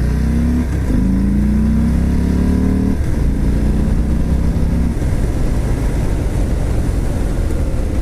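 A 2018 Harley-Davidson Fat Bob motorcycle pulls away. Its loud, close V-twin exhaust climbs through several gears with rising revs, with pauses at the shifts, then settles into a steady roar.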